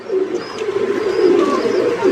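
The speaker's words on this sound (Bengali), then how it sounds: "এইখানেও একটি রানিং পেয়ার কবুতরটা ডেমে আছে" Pigeons cooing steadily and close by in cage number 32 of an outdoor pigeon farm loft, a continuous low throaty murmur of several birds without any voices.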